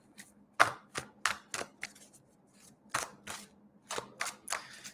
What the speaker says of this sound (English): I'm just giving these a really good shuffle for you, Tisha.